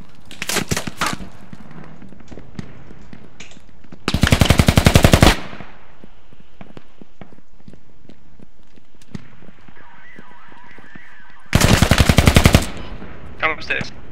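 Machine gun fire in the military shooter Squad: two loud, rapid bursts about seven seconds apart, separated by quieter footsteps and small clatters, with faint voices in the background.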